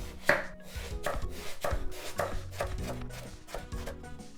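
A knife slices eggplant on a cutting board in a run of about eight crisp, evenly spaced cuts, close and fairly quiet.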